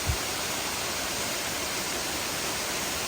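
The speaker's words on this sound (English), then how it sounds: "I hear moving water." Jones Falls waterfall on the Appalachian Trail, a steady broadband rush of moving water filling the whole clip, heard continuously in rainy conditions with no other sounds standing out.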